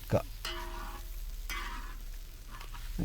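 Kerala-style boti fry being stirred in a pan with coriander leaves. A close, steady sizzle runs throughout, with scraping stir strokes near the start and end and no talking.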